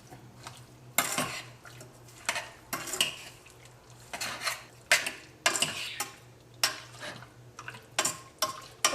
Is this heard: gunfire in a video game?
no